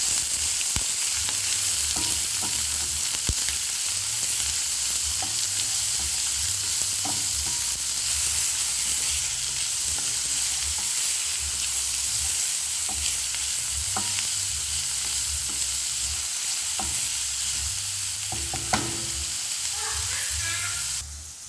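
Chopped onions and curry leaves fry and get stirred in a pan for bottle gourd curry, giving a steady, loud sizzle with repeated spoon scrapes and clinks throughout, no talk.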